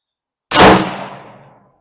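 A single rifle gunshot fired at a range, heard as one loud, sharp crack that rings out and decays over about a second.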